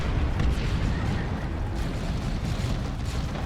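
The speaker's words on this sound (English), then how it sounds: "Lots of auto cannons." Rapid autocannon fire and explosions from a 3v3 Dawn of War 2 battle, a dense continuous barrage of booms and bursts with no clear pauses, loud and rumbling throughout.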